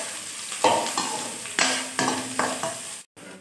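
Garlic and ginger fry in a pan for a pineapple pickle, a hissing sizzle stirred in short scraping strokes roughly every half second, close and fairly loud, stopping briefly near the end, with no talk.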